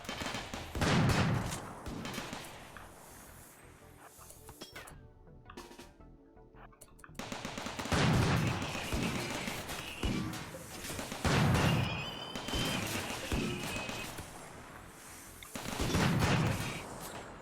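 Bursts of automated turret gunfire in the colony-building game RimWorld as raiders close in on an ice-sheet base, repeated heavy volleys arriving every couple of seconds with brief lulls and a quiet gap in between.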